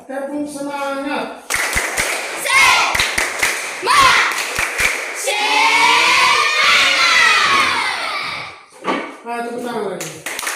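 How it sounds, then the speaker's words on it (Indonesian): Students in a physical education class do a patterned spirit clap in sharp, quick bursts, mixed with loud group chanting and shouting, with an adult voice speaking at the start and end. "Tepuk semangat."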